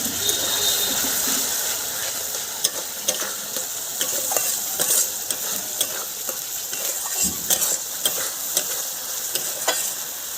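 Jackfruit masala frying in a pan as chilli powder, cumin powder, salt, sugar, turmeric and a little water go in: a loud continuous sizzle with repeated ratcheting scrapes of stirring and intermittent sharp clacks.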